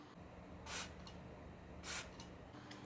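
Two quick hissing sprays from a bottle of Paco Rabanne XS perfume, about a second apart, close and crisp against a quiet background.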